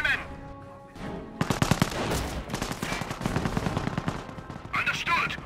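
Rapid bursts of machine gun fire in the World War II strategy game Company of Heroes, rattling volleys from about 1.5 seconds onward over game music and distant battle noise, with a brief radio-style unit voice near the end.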